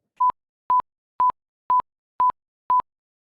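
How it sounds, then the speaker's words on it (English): Six identical short electronic beeps at one steady pitch, evenly spaced about half a second apart, clean and isolated against silence, forming a laboratory auditory tone sequence. "participants would hear a common tone sequence, which consisted of 6 identical tones"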